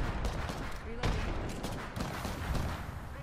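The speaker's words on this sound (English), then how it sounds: "He's mortaring on us, I think." Mortar fire and gunfire in a multiplayer shooter video game: dense, continuous battle noise with sharp bursts and booming blasts throughout, heard beneath a player's voice.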